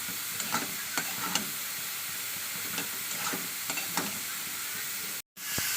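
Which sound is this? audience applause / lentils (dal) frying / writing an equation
lentils (dal) frying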